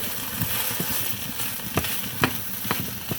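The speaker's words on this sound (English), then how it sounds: "I'm just, you know, stirring it around, letting it saute with the garlic" Pork and garlic sautéing in a pan over medium heat, a steady close sizzle with a spoon scraping and tapping against the pan every half second or so.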